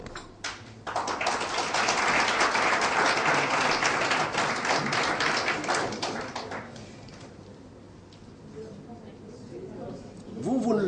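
A seminar audience of the Souverainistes movement bursts into dense applause lasting several seconds, then fades to quiet as a speaker's voice resumes.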